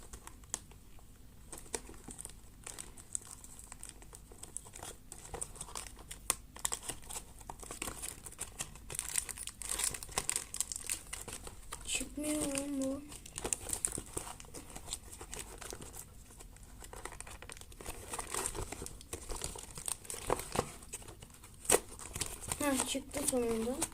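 Plastic and cardboard packaging of a Beyblade Dynamite Belial box crinkles and crackles in scattered bursts as it is carefully worked open, with a person talking over it in places.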